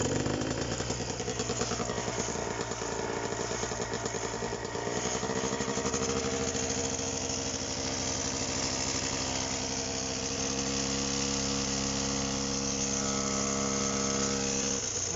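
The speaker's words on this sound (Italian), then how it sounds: "Motore anche a bassi regimi non ratta, gira bello pulito, non fa borbottii, mancamenti." The MINARI F1 Pro 200 propeller engine of a Delta Piuma ultralight trike revs up from a steady idle, its pitch climbing and then holding a loud, even drone at higher speed.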